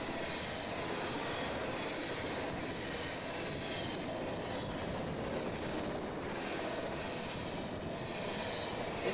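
Steady, loud roar of a train rolling by, wheels grinding on rails with faint high squeals, continuous throughout with no voices.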